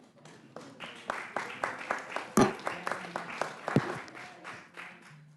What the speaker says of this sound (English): I think that applause indicates performance